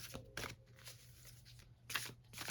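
Cards are shuffled in a few quick riffling bursts with soft pauses between, close and fairly quiet in a still room.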